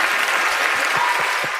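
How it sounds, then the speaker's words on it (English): A live studio audience gives loud, close applause, a thick continuous wash of clapping with a few heavier individual claps, holding strong before tapering at the very end. "That's the last applause you get today"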